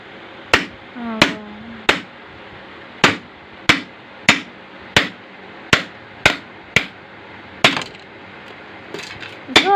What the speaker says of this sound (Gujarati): શાન ઉપર હથોડી ઠોકવાની.